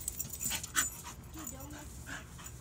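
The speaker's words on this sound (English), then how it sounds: "Here is our dog chasing Bubbles." A deaf dog pants while chasing bubbles indoors, with quick, breathy puffs and faint whimpers close by, mixed with scuffling movement and a person talking.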